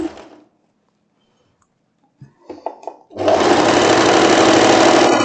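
A sewing machine stitches a floral wrap dress, starting after a few soft handling clicks and then running steadily and loudly for the last two seconds.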